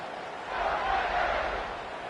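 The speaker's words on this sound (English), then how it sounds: "They're set to kick it off, and this crowd now ready to get behind them." A stadium crowd roars steadily before kickoff in the College Football 26 video game, a broad, continuous wash of cheering that swells slightly in the middle.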